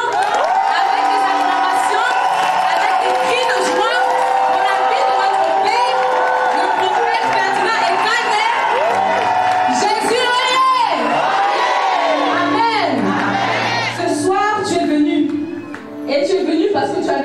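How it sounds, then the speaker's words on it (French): A church congregation erupts in loud acclamation, many voices cheering, whooping and shouting together in a dense, sustained roar that swells and stays close and loud throughout. "Avec des acclamations."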